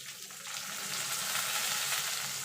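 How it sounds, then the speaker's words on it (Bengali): Chopped onion frying in hot oil, a dense, steady hiss that swells and stays loud and even, with a few faint utensil touches early on and no speech. "এবার পেঁয়াজটাকে একটুখানি ভেজে নেব, পুরো ভাজবো না, পেঁয়াজটা নরম হয়ে এলেই হবে।"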